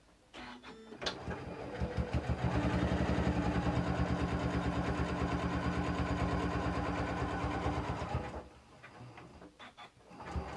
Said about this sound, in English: I'm going to sew all the way down to the end